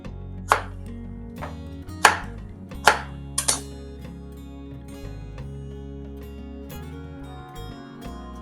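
A knife coarsely chopping bell pepper on a board, with four or five distinct sharp cuts spread irregularly over a low background hum, fairly close and clear.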